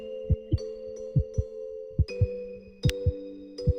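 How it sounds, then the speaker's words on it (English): A heartbeat from a student-made video game's bad ending plays as paired lub-dub thumps in a steady rhythm over a sustained synthetic tone, with bright chime-like accents. "I made it so that the heartbeat would still be heard"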